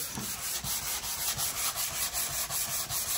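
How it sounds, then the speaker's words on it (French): Expanding foam insulation being sanded inside a van conversion, a steady close abrasive rubbing with rhythmic back-and-forth strokes, loud and continuous with no voices. "Maintenant, je suis en train de donner un coup de ponçage."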